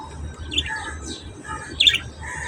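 Pet budgerigars in a cage give short, bright chirps and squawks, a few scattered calls at modest volume over a low background hum.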